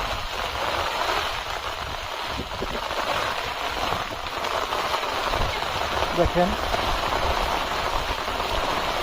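Rain falling steadily on a waterlogged chili pepper field, a dense continuous patter with gusts of wind noise on the microphone, while someone speaks briefly.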